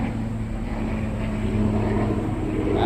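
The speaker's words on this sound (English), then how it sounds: "I think we have a helicopter going overhead." A helicopter passes overhead outdoors, a loud continuous rotor drone with a steady low hum that grows slightly stronger toward the end, heard with no talk.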